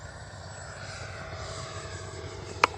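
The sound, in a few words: Freewing 80mm L-39 RC jet flying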